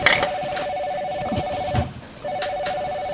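A telephone rings in a home with a steady electronic tone, two long bursts separated by a short pause, moderately loud against light household background noise.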